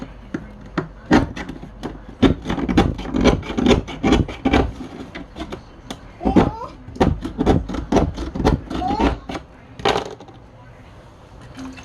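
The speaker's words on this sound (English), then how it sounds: "Alright, I'm just opening the can." A tuna can being opened without a can opener, heard as a long run of sharp, rhythmic scraping and rasping strokes on metal at close range, pausing briefly before a final few scrapes.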